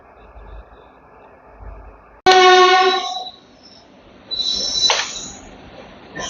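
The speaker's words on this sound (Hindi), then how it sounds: "अभी देखो भाई साहब पटना हावड़ा वंदे भारत जा ही रही है" A Patna-Howrah Vande Bharat express train goes by, heard from aboard a Rajgir intercity express: a sudden loud horn-like tonal blast, then a rushing roar that swells again with another high whine, all close and loud.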